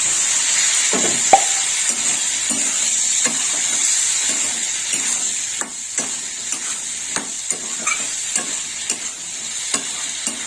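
Curry of green peas being stir-fried in a wok, a steady close sizzle with repeated scraping strokes of the spatula at an irregular rhythm, no voices.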